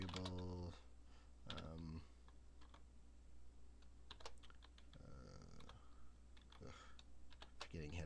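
Clicky bursts of typing on a computer keyboard, quick irregular keystrokes in short runs with pauses, close but quiet, with someone talking between and over some of the runs.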